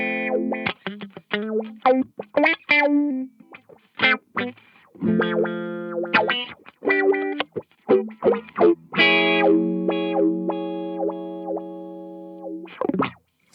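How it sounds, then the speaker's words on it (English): Guitar notes run through a Zvex Super Seek Wah pedal set to random mode, the filter jumping unpredictably between its 16 steps; short plucked phrases and held notes with gaps between them, moderately loud, no talking. "If you go random, it goes around randomly between the different steps."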